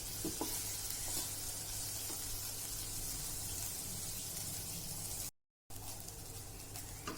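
Soybean momo filling frying and being stirred in a pan gives a steady, close sizzle with soft scraping, broken by a brief silent gap near the end.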